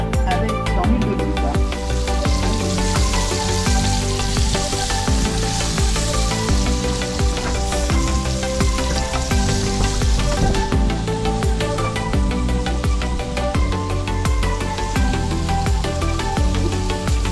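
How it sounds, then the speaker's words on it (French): Flour-coated meatballs fry in olive oil with a loud, steady sizzle and crackle that runs unbroken throughout, with music playing over it. "on les roule dans la farine pour les cuire avec dans l'huile d'olive"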